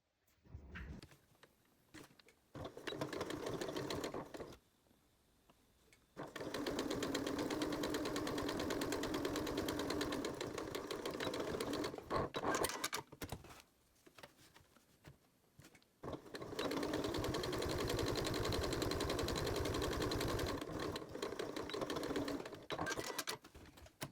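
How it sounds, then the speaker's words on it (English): A sewing machine top-stitches fabric for a bow napkin ring in three sustained runs of rapid, steady needle chatter, separated by brief pauses with light handling noise. "Now you can top stitch about 1/8 of an inch away from both edges."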